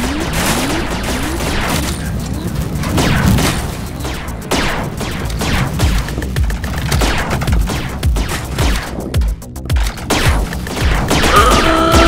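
Pistol and other gunfire in the VR shooter game Rec Room, a dense run of sharp game shots with booms and crashes close up, continuing steadily throughout.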